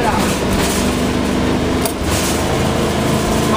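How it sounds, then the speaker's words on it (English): A 1989 Lindy motor home engine at full throttle climbing a hill, with an exhaust leak, gives a loud, continuous roar mixed with wind noise throughout. "Got a little bit of an exhaust leak, as you can hear."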